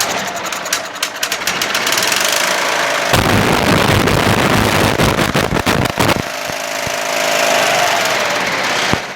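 A Craftsman 22-inch push mulching mower with a Tecumseh engine runs on choke, a loud, continuous rough chugging close by with a harsher, heavier stretch in the middle, alone without talk.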